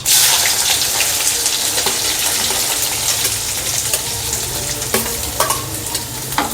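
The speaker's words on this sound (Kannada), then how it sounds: "ಈರುಳ್ಳಿ ಹಾಕ್ಕೊಂಡು ಬಾಡಿಸ್ಕೋಬೇಕು ಚೆನ್ನಾಗಿ." Chopped onions frying in hot oil for Karnataka-style brinjal (badanekayi) chutney, a loud continuous sizzle with scraping stirring sounds and a few sharp crackles, close up and without talking.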